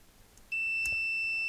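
A multimeter's continuity tester checks connections on an Atari XC12 tape drive, sounding one steady, high, loud beep that starts suddenly and holds for about a second, with faint background before it.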